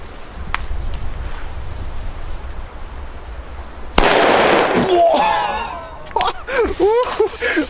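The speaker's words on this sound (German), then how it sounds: "das sind die heftigsten Böller" Chinese firecrackers go off on New Year's Eve, a sharp loud blast followed by crackling bursts and whistling streaks, outdoors with wind buffeting the microphone and a quieter rumble before the bangs.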